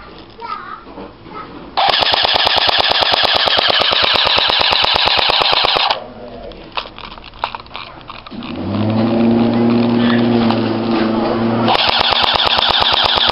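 An A&K Masada airsoft rifle fires on full auto in rapid, evenly spaced mechanical clacks, with a long burst, a pause filled with a steadier whirring hum, and then a second burst starting near the end.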